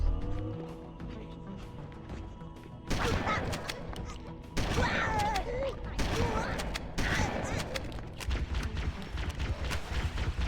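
Rapid gunfire bursts in the shooter Halo: CE Anniversary during a fight against the Flood, sharp repeated shots layered with game noise while a player talks over them.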